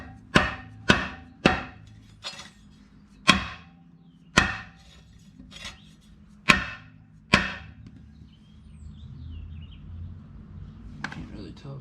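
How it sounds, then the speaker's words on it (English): A hammer strikes a retainer on an engine part during an engine upgrade on a Toro Workman utility vehicle, with about ten sharp metallic blows at uneven intervals, fairly close, followed by quieter handling sounds. "we'll go beat on it with a hammer and see what happens"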